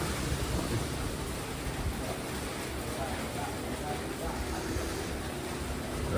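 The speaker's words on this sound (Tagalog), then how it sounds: "Bumali na ng ulan." Steady heavy rain hisses and roars continuously in Tagaytay, a dense broadband wash with no breaks.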